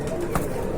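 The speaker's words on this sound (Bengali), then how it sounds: "আরেক জোড়া কবুতর দেখতে পাচ্ছেন" Pigeons coo at a market where local and foreign breeds are sold. A brief, soft coo sits under dense background noise.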